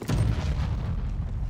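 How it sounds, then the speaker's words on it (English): A high-explosive charge detonates in the shooter game Brink, a single loud, deep boom with a rumbling tail that fades slowly over a second and a half. "Detonate an HE charge"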